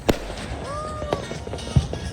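New Year's Eve fireworks in the Philippines pop in three sharp, fairly close bangs across about two seconds, with a faint rising whistle between them.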